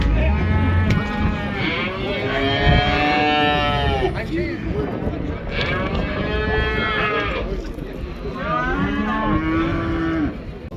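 Cattle moo repeatedly at a busy livestock market in Kyzylorda, several long lowing calls rising over a loud crowd hubbub, with people talking and bargaining nearby.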